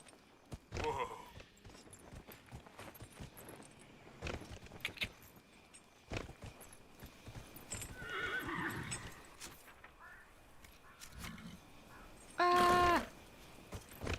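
A horse whinnies and hooves clip-clop amid Dragon Age: Inquisition sound effects, with a sharp jingling burst near the end and a voice talking at times.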